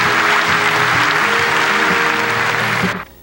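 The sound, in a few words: studio audience applause for Miss Korea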